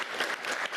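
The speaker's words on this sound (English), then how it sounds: "So let's give a round of applause for those folks." A brief burst of dense applause from the audience at a city commission meeting, many hands clapping together for under a second at moderate level.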